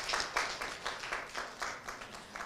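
Audience applause, a burst of clapping from a crowd that rises and falls in uneven waves, fairly quiet and without any talking.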